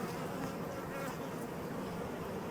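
Honeybees buzz steadily around an open hive as a newly released queen walks among them, a dense, continuous close-up drone of many insects with no talk.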